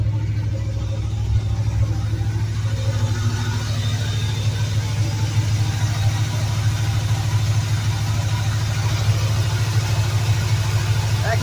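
A 1984 Subaru engine running just after it fires up with a new electric fuel pump fitted, holding a steady, loud, low idling rumble with no break.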